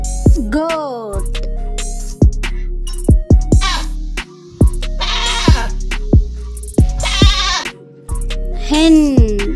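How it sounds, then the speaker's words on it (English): A goat bleats repeatedly in loud, wavering cries, close and clear, with plucked music notes and short gaps between the calls. "Goat."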